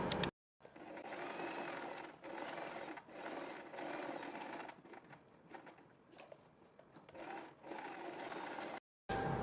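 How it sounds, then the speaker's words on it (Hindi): A sewing machine stitching around a boat neck along buckram, a fast close mechanical whirr running in long bursts with brief pauses and slowdowns, no talk. "इसके बाद हम बुकरम के बिल्कुल बराबर में पूरे नेक पर एक सिलाई लगा देंगे"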